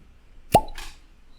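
A single sharp cork pop as a bottle of single malt scotch is opened, followed by a brief soft airy hiss, heard alone in a quiet room.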